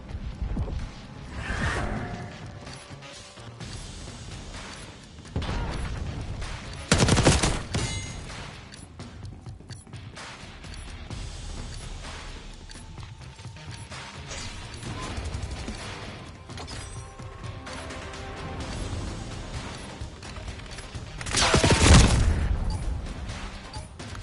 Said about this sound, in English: And this guy's shooting at me.